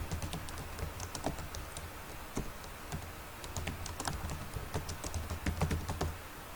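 Rapid clicking of computer keyboard keys as a video title is typed in, an uneven run of close, crisp keystrokes with no voices.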